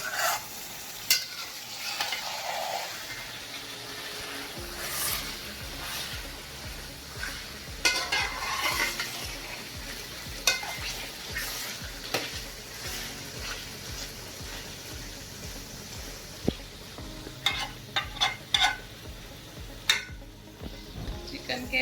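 Chicken biryani mixture stirred in a metal pan, with repeated scraping and clinking of the spoon against the pan over a gentle sizzle, close and steady with no talking.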